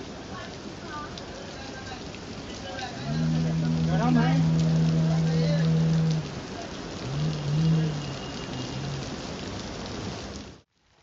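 Steady rain falls continuously over a road, a broad even hiss throughout, with people talking over it in the middle stretch.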